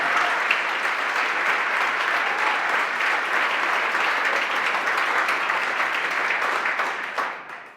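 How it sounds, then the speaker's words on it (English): Dense, sustained applause from a large audience fills the room at a showcase event, holding steady for several seconds before tapering off. "Please join me in applause."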